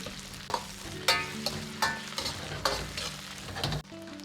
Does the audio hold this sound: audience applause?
no